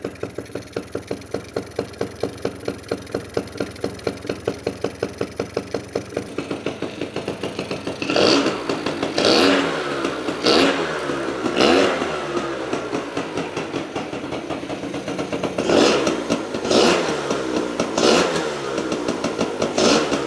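A 1990s Honda Cub EZ90 mini bike engine runs loud with no airbox or spark arrestor fitted, a fast pulsing idle followed by a series of sharp revs that rise and fall repeatedly, close up.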